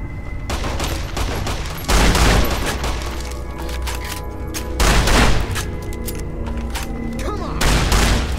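Shotgun blasts in Fallout: New Vegas on survival mode, a run of loud booming shots in quick succession fired by the player amid game combat, rough and echoing, with bursts of heavier fire.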